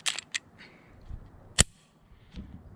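A single sharp click from the trigger of an FNS 9C pistol breaking, near and loud, set among a few fainter handling clicks with low thumps before and after.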